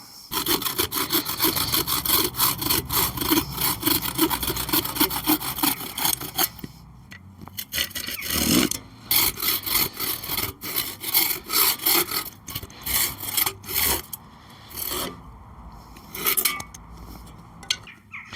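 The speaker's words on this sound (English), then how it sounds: "I'm just going to cut this wood to length now" Hand sawing through a length of wood being cut to size for drawer runners on an upcycled Welsh dresser: steady back-and-forth rasping strokes, loud and close, with a brief pause mid-way before the strokes resume in shorter bursts.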